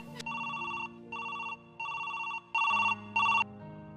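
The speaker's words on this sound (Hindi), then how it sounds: "लो ये लो, बेल जा रही है।" A telephone rings in short repeated electronic bursts, five trills with brief gaps, the last two louder and slightly lower, close and clear with no talking over them.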